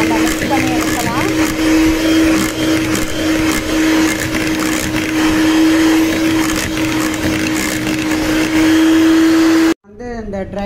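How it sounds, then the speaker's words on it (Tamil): Electric mixer whipping a raspberry ice cream mix with milk, a loud continuous whirring hum with a steady tone for about ten seconds, cutting off abruptly near the end. "எல்லாத்தையும் சேர்த்து ஒரு 1 மினிட் நம்ம மிக்ஸ் பண்ணி எடுக்கலாம்."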